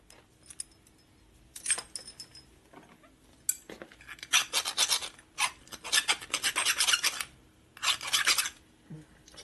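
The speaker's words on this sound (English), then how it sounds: "Didn't deburr the weld either." A metal file rasps across a weld on a 1977 Harley-Davidson Sportster Ironhead part in a workshop, loud gritty scraping strokes in uneven bursts close by, with light metallic clinks between them.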